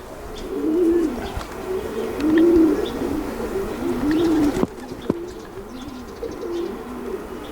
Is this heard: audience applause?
no